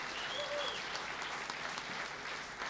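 A jazz concert audience in East Jutland applauds the musicians after a clarinet, drums, bass and trombone set, a steady, even wash of clapping at moderate distance throughout.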